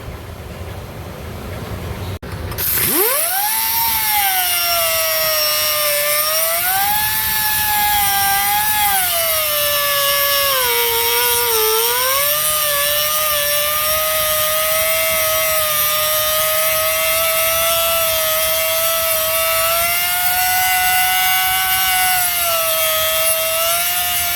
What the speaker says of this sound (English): we're going to use a cutoff wheel, and I'm actually going to cut this off because it's hitting the backing hitting the back of the bearing itself